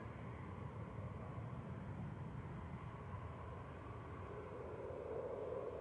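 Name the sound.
EasyJet airliner and Airbus A340 at Manchester Airport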